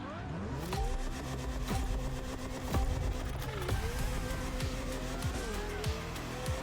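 A Lamborghini races in The Crew Motorfest, its engine revving up and down through repeated gear shifts, loud and close, with brief tire squeal.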